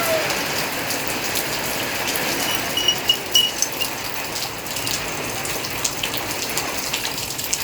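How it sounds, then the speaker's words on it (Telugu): Steady rain pours down over a village home during a rainy spell, a continuous broadband hiss with scattered drops tapping nearby surfaces, fairly loud and unbroken throughout, with no voices. "ఇంకో తుట్టు వాన వస్తున్నదిగా"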